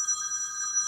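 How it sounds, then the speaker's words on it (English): A phone rings with an incoming call, a steady electronic ringtone heard alone with a few tonal layers holding through the brief moment. "someone's calling me on the phone"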